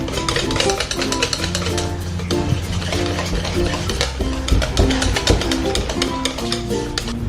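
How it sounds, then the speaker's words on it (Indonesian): Mixture stirred in a pan for a snack recipe, with steady scraping and clinking strokes over a constant frying sizzle, close and fairly loud throughout. "Aduk sampai benar-benar tercampur dengan baik."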